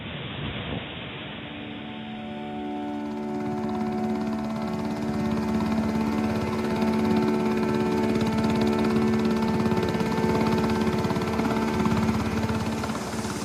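A steady, droning Coast Guard helicopter engine with rotor thrum builds up and holds loud and close, with no voices, during a disaster rescue in Port-au-Prince.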